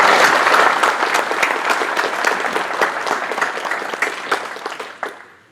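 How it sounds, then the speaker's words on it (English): An audience at a textile industry business session gives the speakers a round of applause, a full burst of clapping that gradually thins out and trails off into a few final claps. "let's take a moment to give all our speakers a round of applause"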